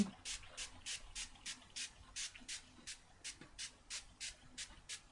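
Rapid, steady bursts of a spray bottle misting teal ink onto a tablecloth stencil, about a dozen short hissing sprays in quick rhythm, fairly quiet and close.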